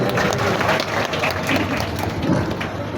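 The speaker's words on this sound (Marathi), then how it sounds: "वास्तविक जोरदार टाळ्या संभाजीराव पांडे साहेब यांच्यासाठी झाल्या पाहिजेत" Audience at a school event where notebooks and saplings are handed out to students, clapping in a dense, sustained round of applause, loud and fairly close.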